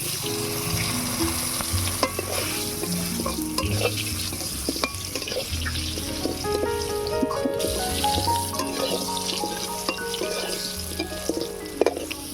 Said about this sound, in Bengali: এবারে ভেজে নেব আলু